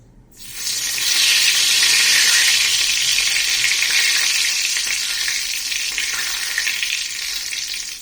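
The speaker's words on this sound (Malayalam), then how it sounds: "നമുക്ക് കുറച്ച് കറിവേപ്പില ഒന്ന് വറുത്തെടുക്കാം" Curry leaves frying in hot oil, a loud, steady sizzle that starts abruptly and continues without pause, with no talking.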